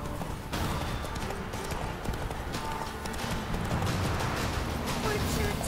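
Roach the horse's hooves clip-clop steadily on the road in the video game Witcher 3, mixed with ambient game sounds and faint voices.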